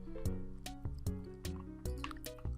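Water in the Minecraft video game makes a series of loud liquid drips and splashes in an irregular rhythm, each one a sharp plop, heard close up with no one talking.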